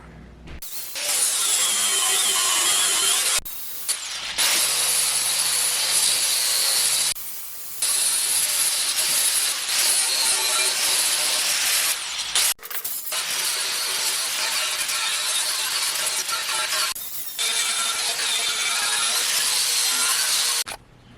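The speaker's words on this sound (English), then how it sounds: "now we're going to grind all the edges with a nice radius" An angle grinder grinds the cut metal edges of a chiminea firepit being built, with a loud, harsh, high-pitched metallic shriek. It runs in long bursts broken by brief pauses, close and with no talking.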